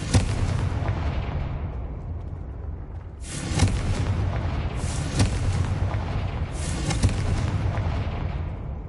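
Booming Confringo fire-spell blasts in Hogwarts Legacy on PS5: three heavy explosions spaced a few seconds apart, each with a sharp crack and a long rumbling tail over continuous battle noise.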